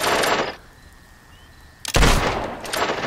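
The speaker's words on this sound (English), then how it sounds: "Start shooting." Gunfire in a shooting contest in the video game Fable 2: a loud burst of shots, a pause, then another heavy volley followed by further shots, with no talking.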